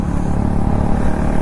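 A motorbike ridden on a road during preparations for the Howly Rash festival, its engine a close, loud low rumble and whir held steadily throughout.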